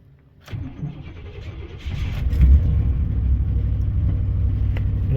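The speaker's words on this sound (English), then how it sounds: "let's see how well she cranks up" An old truck that had sat unstarted since the day before cranks briefly in cold weather, then catches and settles into a loud, steady, rumbling idle close by.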